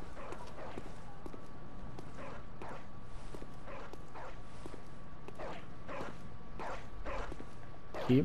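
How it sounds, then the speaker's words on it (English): Dog barking in the Bloodborne video game, repeated sharp barks at a regular rhythm, moderately distant, over faint footsteps and a steady tonal background hum. "Wait, where's the barking?"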